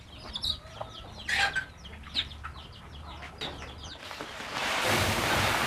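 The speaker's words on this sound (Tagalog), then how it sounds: "daming alagang manok yung may-ari ng gilingan" Scattered clucks and short squawks from several chickens nearby, followed by a steady wash of broadband noise that rises and covers the end.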